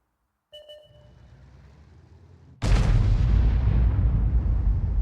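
A heavy tank cannon from a tank battle game fires once, a loud sudden boom with a long rolling decay, after a quieter stretch of engine rumble and a short tone.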